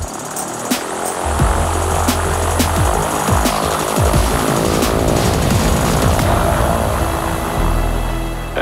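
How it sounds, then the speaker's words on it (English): A hydrogen fuel cell electric propeller plane flies, its motor and propeller giving a steady throbbing drone that stays loud and close throughout, with no speech. "In this plane, hydrogen is being used in a fuel cell to run an electric motor, producing zero carbon emissions."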